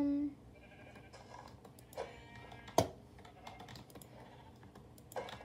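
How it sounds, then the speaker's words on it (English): Sheep bleat in a survival video game, with a couple of short, distinct bleats rising over quiet keyboard typing and clicking and faint background sound. "look at all this sheep"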